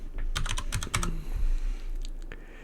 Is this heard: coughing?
no